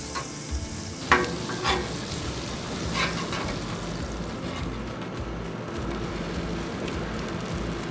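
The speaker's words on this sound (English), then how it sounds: "The next step is to get some butter on the griddle so we can roast our banana." Banana slices sizzle in butter on a Blackstone griddle, a steady close frying hiss with a few scraping spatula taps near the start.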